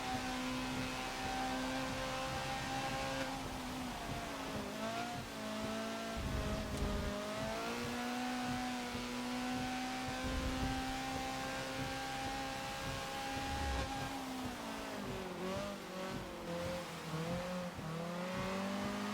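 Honda CRX race car in Forza lapping a rain-soaked Brands Hatch Indy circuit, its engine droning steadily with pitch rising and falling through gear changes and corners, moderately loud and continuous with no voices.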